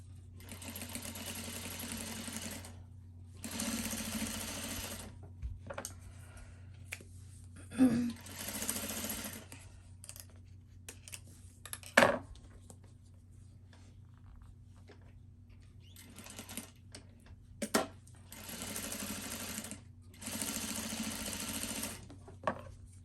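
A sewing machine top stitches a CGM pump pouch in several short bursts of rapid rattling whir separated by quiet gaps, with occasional clicks and handling noises between runs.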